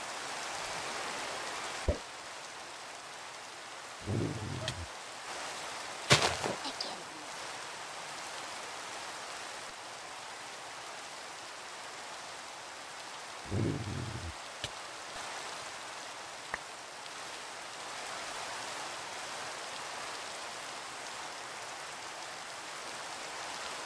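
Steady rain falls in the Minecraft Pixelmon game, a constant hiss of even wash heard throughout, with a few brief low thumps and knocks breaking through around it.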